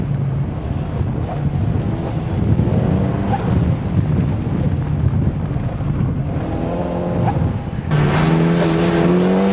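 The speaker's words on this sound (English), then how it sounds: "Backfires." A turbocharged Exocet track car roars loudly on track with a constant engine drone, gear changes and pitch rising near the end; any backfire pops blend into the engine noise.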